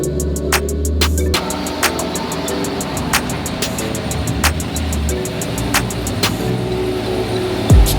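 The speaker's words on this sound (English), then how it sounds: "let's move the Silverado in the garage so we can get to installing those floor mats and those LED bulbs" A 2021 Chevrolet Silverado RST pickup moves into a garage, its engine running at a low, steady idle with rhythmic ticking clicks, like a turn signal or warning chime, repeating throughout at close range.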